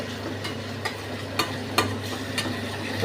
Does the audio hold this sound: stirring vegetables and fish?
yes